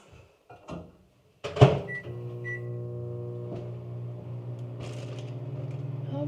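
A microwave oven heating a sweet potato for three and a half minutes: a door clunk and a couple of short beeps, then a steady close electric hum with a faint rhythmic rumble from the turntable, alone with no talk.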